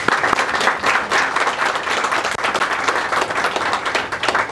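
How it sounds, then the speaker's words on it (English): An audience applauds an honoured community woman at a Somali mothers' program event, with lively crowd clapping that rises and falls slightly and includes a few sharper individual claps. "So I'd like to give you a round of applause"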